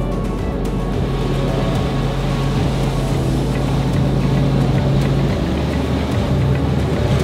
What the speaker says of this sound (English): we engage it and we are at engine idle at 600 RPM